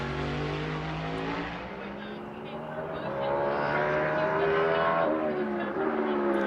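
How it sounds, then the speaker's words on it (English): A NASCAR Cup Series race car at practice for the 2022 Blue-Emu Maximum Pain Relief 400 drops through its gears into turn 1, the loud engine note stepping down in pitch and then rising again as it carries on through the corner. "Really hear the downshift getting into turn 1."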